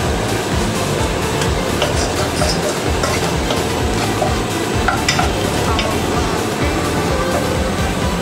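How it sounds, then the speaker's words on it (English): Onion frying in oil crackles loudly and steadily for about eight seconds, with constant stirring scrapes mixed into the dense sizzle. "We fry the onion with the oil."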